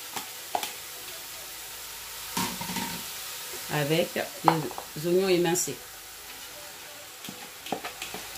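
Zucchini flesh and sliced onions fry and sizzle in a pan while being stirred, with a soft steady hiss, a few scraping stirs in the middle, and a person talking over the cooking.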